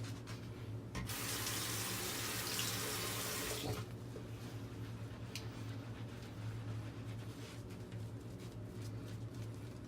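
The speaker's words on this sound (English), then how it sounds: "Or water straight from the tap," Tap water running into a sink during a shave, a steady close splashing hiss that swells louder for a few seconds before settling back to a constant flow under a low room hum.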